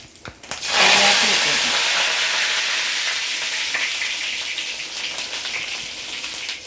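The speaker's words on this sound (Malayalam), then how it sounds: "അപ്പോൾ എണ്ണ ചൂടായി വന്നിട്ടുണ്ട് പെരിഞ്ചീര ഇട്ടുകൊടുക്കാം കൊടുക്കാം കടുക് കൊടുക്കാം" Cumin and mustard seeds hit hot oil in a pan, setting off a sudden loud, steady sizzle with crackling spits that gradually settles but keeps frying close up.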